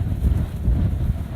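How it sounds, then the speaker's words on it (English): Low, blustery wind rumbles and buffets the microphone steadily outdoors on a farm, with no talking. "I know it's a little windy"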